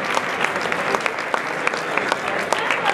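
Audience applause at an award presentation for a mountain-bike route event, steady crowd clapping with a few sharper claps standing out, some voices faintly underneath.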